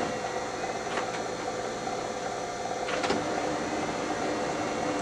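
A Brother MFC-L8850 laser printer initializes after a drum replacement with a steady mechanical whir and two brief clicking bursts, close and continuous.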